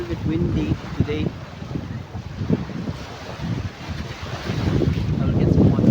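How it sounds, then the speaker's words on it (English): Gusty wind by the sea buffets the microphone in uneven rumbling bursts, with water sloshing nearby and a person speaking briefly. "So it's a little bit windy today."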